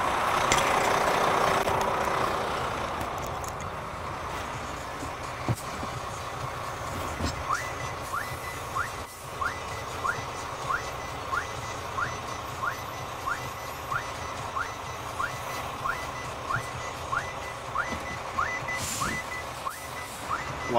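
A vehicle backs up slowly while snow chains are fitted, its engine idling low as a steady series of evenly spaced reversing beeps repeats for several seconds at moderate distance.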